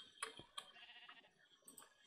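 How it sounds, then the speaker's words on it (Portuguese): Sheep bleating in Minecraft, a few short game-animal bleats scattered across a quiet stretch, moderately near and fairly faint, with no talking. "Tem mais ovelha aqui em cima"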